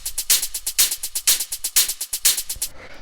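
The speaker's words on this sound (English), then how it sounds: "Then we have the hi-hats, which sound like this." Crisp electronic hi-hats from a melodic techno track tick in a rapid sixteenth-note pattern with accented, louder hits among softer ones, bright and close, stopping just before the end.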